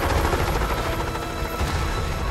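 A helicopter in the Monsters vs. Aliens video game gives a steady, loud rotor drone with a low rumbling thump, continuous throughout with no talk.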